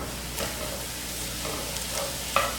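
Chopped apples and celery softening in a pan, a steady close sizzle with soft crackles and a faint clink of a utensil near the end, no voices.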